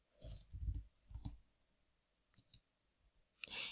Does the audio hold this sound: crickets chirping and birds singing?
no